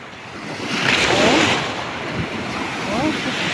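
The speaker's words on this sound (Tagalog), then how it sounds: "Lami ka ay paminawon ang makarelax ka ay paminawon ang alon." Ocean waves washing onto a pebble beach in Jagna, Bohol, in steady surges, with wind noise buffeting the microphone and faint voices briefly audible.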